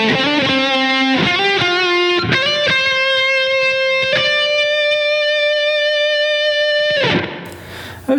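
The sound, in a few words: electric guitar playing final phrase of a solo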